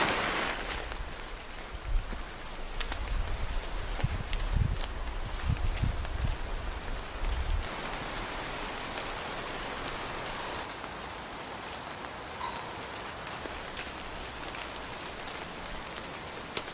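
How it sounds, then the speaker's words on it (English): Rain falls steadily in the woods during several days of wet weather, a dense even hiss of drops on leaves and ground with some heavier low patter early on. "It's been raining for the last few days."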